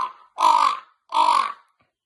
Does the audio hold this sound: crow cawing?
yes